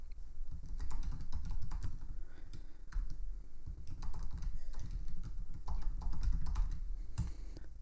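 Computer keyboard typing as an email address is entered, fairly quiet rapid key clicks in uneven bursts with short pauses, close and alone without any talking.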